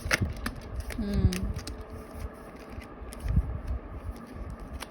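Tarot cards shuffled by hand during a love reading, with cards popping out of the deck: soft riffling and papery slaps in scattered bursts, a louder flurry near the start and another toward the end, over a murky background.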